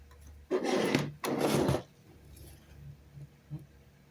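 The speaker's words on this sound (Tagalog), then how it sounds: "Tapos, tanggal natin ng screw." A screw being removed with a screwdriver, two scraping, grinding turns close by, each lasting about half a second, followed by a few faint clicks and small knocks.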